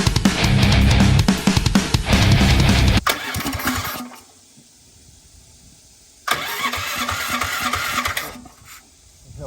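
A Honda Odyssey FL250 engine starts, running loud and rough for about three seconds before cutting out. After a quiet pause it fires again and runs with a steady buzzing idle.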